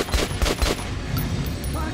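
Three quick close gunshots fired at an armored training dummy in Metro: Last Light, evenly spaced in the first second, then fading into a low lingering rumble.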